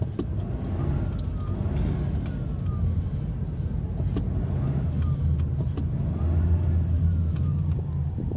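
Steady low rumble of cars and other vehicles crawling in a traffic jam on a road toward a toll gate, with engines idling and occasional passing hums, continuous and moderately loud throughout.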